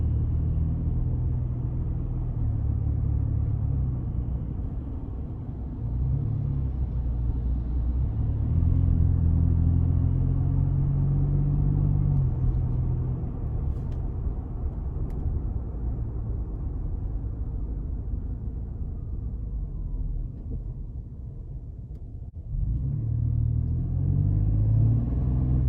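A 2021 Ford Expedition Max XLT SUV with the 3.5 engine cruises along, heard from inside as a steady low road and engine rumble with slight swells and one brief dip, no talking.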